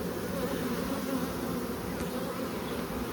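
Honeybees on a brood frame of capped worker brood and larvae give a dense, continuous droning buzz, steady and close, with no voices over it.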